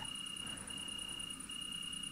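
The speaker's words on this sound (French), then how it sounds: "en entendant le bruit des insectes, des grillons, des cigales, peut-être d'un autre insecte" Crickets chirp at night along a town street on an evening walk, a steady high-pitched trill that is faint and continuous with no voices.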